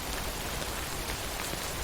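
Steady, dense rainfall from the game Death Stranding, a constant close hiss of drops on the ground that fills the short stretch evenly with no voices.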